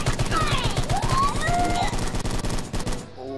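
Rapid, dense gunfire from a weapon in the game Chop Goblins pours out as a continuous loud rattle with sweeping tonal effects over it, then cuts off abruptly near the end.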